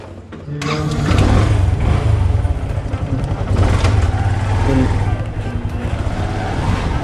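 A motorcycle engine fires up and runs steadily at a loud, close idle for the start of a ride during a Himachal tour, its low rumble continuous throughout, with a voice speaking over it.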